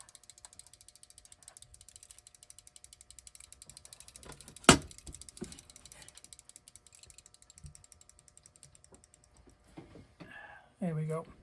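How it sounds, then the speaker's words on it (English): Antique alarm clock from around 1898–1902 winding down, its mechanism ticking in a rapid steady ratchet that slows and falters, with a sharp click midway and brief handling noises at the end. "the alarm keeps going. So I'll let it wind down"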